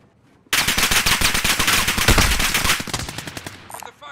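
Rapid automatic fire from a C58 rifle in a video game, a loud, close burst of evenly spaced shots lasting about three seconds before tapering into a few scattered rounds.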